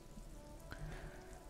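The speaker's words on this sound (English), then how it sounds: "This rain will not let up anytime soon." Rain falls steadily in the video game Disco Elysium, a soft, constant wash of patter with low background hum and a faint thud partway through.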